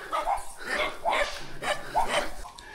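A dog in a quiet rural village among goats and chickens lets out several short barks and yips in irregular bursts at moderate distance.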